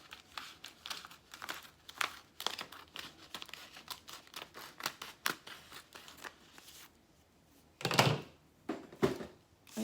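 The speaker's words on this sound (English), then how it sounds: "Now I'm going to take my transfer tape." Transfer tape for a Dollar Tree wall-decor craft being unrolled and cut, close crinkling and ripping with sharp snips in quick bursts, then a louder rip and a couple of final tears near the end.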